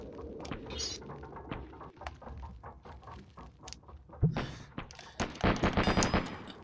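Bursts of gunfire from the Lucky Luke video game on PlayStation 1, a series of sharp shots with a louder, denser volley near the end over background game sounds.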